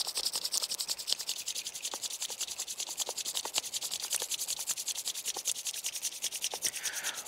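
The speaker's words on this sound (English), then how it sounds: "briskly rub your hands like this" Palms rubbed together briskly, a steady dry rasping friction repeated in a fast even rhythm, close and continuous throughout with no talking.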